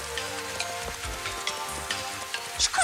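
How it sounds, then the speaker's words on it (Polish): Cartoon rain falling during a picnic, a steady patter of drops on surfaces with a few brighter splashes near the end, and no voices. "Zawsze musi padać w czasie pikniku."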